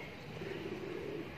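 Pigeons cooing outdoors near a rooftop loft, a soft, low, drawn-out coo heard faintly against steady background noise.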